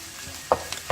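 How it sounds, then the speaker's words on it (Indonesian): A utensil stirs fried rice seasoned with black pepper in a hot pan, giving two or three quick scraping clinks over a faint, steady sizzle, close and brief. "Kita bumbui lagi dengan merica hitam sekitar setengah sendok teh, lalu kita aduk kembali."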